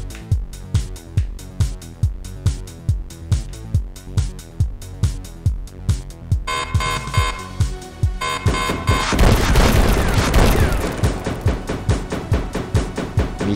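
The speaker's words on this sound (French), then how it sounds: "Il tire des balles à ses pieds." Repeated gunfire in the video game Panic Factory, an enemy shooting bullets at the player's feet: a steady train of sharp shots, then a louder roaring crash of blasts near the end.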